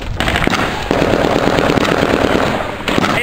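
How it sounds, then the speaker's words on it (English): Mortar rounds fire for effect at a position in Afghanistan. The blasts are loud and close and hit in rapid sharp bursts over constant heavy noise, with no voices. "5 rounds, fire for effect."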